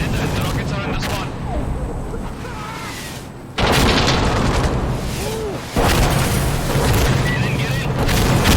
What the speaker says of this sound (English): The rockets are in the spawn.